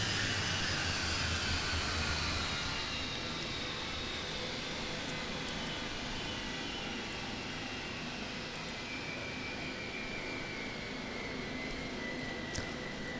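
A Boeing 727 in a flight simulator game drones with a steady, loud jet engine roar and whine that holds nearly level throughout as the engines are shut down, with no voices over it.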